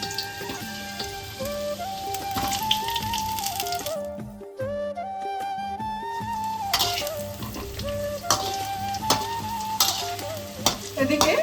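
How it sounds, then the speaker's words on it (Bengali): Potatoes frying in hot mustard oil in a kadai give a steady, close sizzle that runs the whole time beneath background music with a melody. "এবার আমি আলুগুলোকে প্রথমে ভেজে নেব।"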